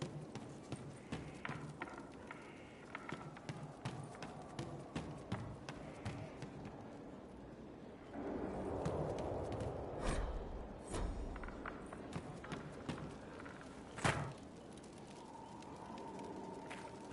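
Hooves of horses in Dragon Age: Inquisition clip-clop in a steady, fairly fast rhythm, with a brief louder rush of noise in the middle; faint voices murmur at times.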